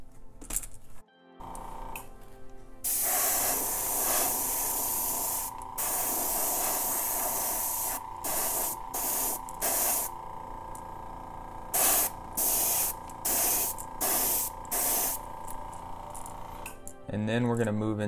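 An airbrush sprays pearl white paint onto a crankbait fishing lure in short and long bursts, a close, loud hissing that starts and stops in an uneven rhythm, ending with a brief clatter.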